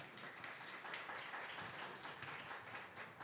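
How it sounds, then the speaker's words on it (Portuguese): Faint audience clapping at a show in Brazil, a distant, even wash of applause lasting a few seconds with no talking over it. "Palmas."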